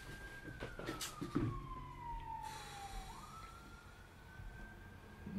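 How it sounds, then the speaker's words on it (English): An ambulance siren wails outside, a long sweeping tone sliding down then rising again, faint and distant behind quiet indoor sounds, with a few soft knocks early on. "Nah, it's an ambulance."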